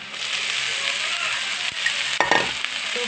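A spoon stirs a mixture of onion and mustard blossoms (wild leafy greens) in a pan, giving a steady soft sizzle with a few scraping clinks near the end, close and moderately loud with no talk.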